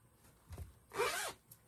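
A zipper is pulled open on a handmade stitched, lined pouch in one quick, rasping stroke, close but soft, after a few faint handling rustles.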